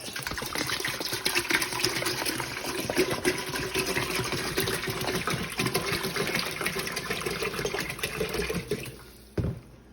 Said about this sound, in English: take our salt water and slowly pour it into here